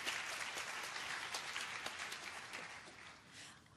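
An audience at an NIH talk on cannabis and pain applauds steadily for a few seconds as a speaker is welcomed. The clapping is dense and even, then fades toward the end.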